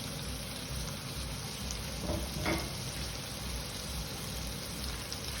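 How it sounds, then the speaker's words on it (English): A steady, gentle sizzle of crayfish frying in a pan for spaghetti, with a couple of soft clinks of stirring partway through. "Get it sizzling a little."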